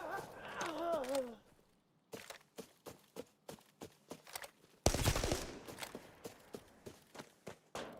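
MP5 submachine gun in a first-person shooter, heard as a string of short sharp bursts and single shots spaced through the clip, with one heavier blast midway, after a brief stretch of voice at the start.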